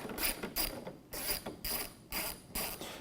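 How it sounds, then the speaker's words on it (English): A screw being backed out of the housing of an Electrolux dryer during disassembly, giving bursts of ratcheting clicks in a steady rhythm, close and fairly clear, with no talking. "let's take our 1 screw out here"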